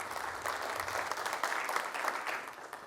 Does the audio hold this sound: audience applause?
yes